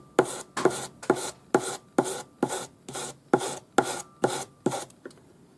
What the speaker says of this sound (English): And this is 400 grade paper on a sanding stick.